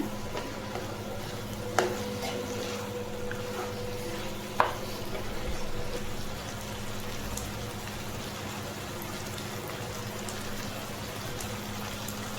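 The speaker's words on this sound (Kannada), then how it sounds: "ಲಿವರ್ ಚೆನ್ನಾಗಿ ಫ್ರೈ ಆಗ್ತಾ ಇದೆ" Chicken liver frying in a pan, a quiet, continuous sizzle with a couple of sharp clinks from stirring, no talking.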